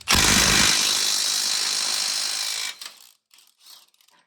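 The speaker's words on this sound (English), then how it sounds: "And just hammer away." A loud burst of rapid, rattling hammering on a metal bolt on a 2003 Honda Element's oil pan runs for a couple of seconds, then stops, leaving a few faint knocks.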